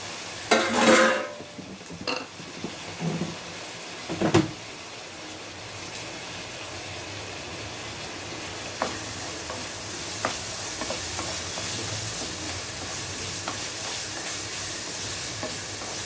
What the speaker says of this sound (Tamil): காய்கறி நல்லா வதங்கட்டும்